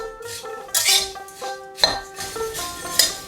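Puffed rice being stirred in a dry pan for roasting: scattered metallic clinks and scrapes of a utensil against the pan, with rustling grains between irregular strokes, close and fairly clear.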